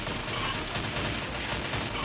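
Continuous rapid gunfire from a video game shooter with a rare MG machine gun, a steady, loud, even stream of shots with no break and no talking.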